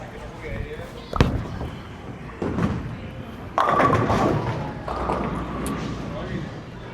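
Bowling ball, a Storm Next Factor, rolled down the lane from the 25 board: a sharp release thud, a rumbling roll, then a loud clatter of pins, with people talking faintly in the background.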